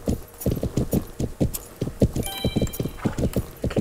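Horse hooves clip-clop in a steady, brisk rhythm in a horse video game, close and clear, with a brief whinny-like tone partway through and no talking.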